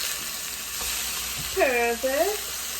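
Pork chops sizzle steadily in a hot frying pan, a continuous close hiss with a brief whistling squeal partway through.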